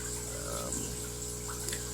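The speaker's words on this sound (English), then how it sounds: "got some bubbles going with an undergravel filter" An aquarium's undergravel filter bubbles in a home fish tank fitted with a heater, giving a steady close wash of water and air bubbling with no gaps.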